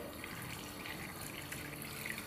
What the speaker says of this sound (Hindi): और अब इसमें हम डाल देंगे पानी